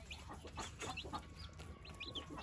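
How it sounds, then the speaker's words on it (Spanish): Three naked neck chicks peep in short, high, scattered chirps, close but quiet, over a soft steady background. "Son tres pollitos, pescuezo pelón, pelucos."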